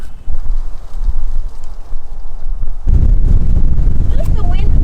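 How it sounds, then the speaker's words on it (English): Wind buffets loudly into a van, gusting and roaring close to the microphone and swelling stronger partway through, with a voice briefly audible. "The wind's blowing it all back in here."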